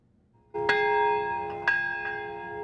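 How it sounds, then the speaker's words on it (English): A church bell in Nagasaki rings out in a prayer for peace on the atomic bombing anniversary, two clear strikes with long humming resonance, loud and alone without speech. "a bell rang out in a prayer for peace"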